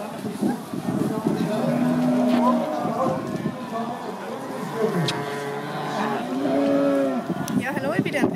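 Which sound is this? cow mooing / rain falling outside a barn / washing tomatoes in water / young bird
cow mooing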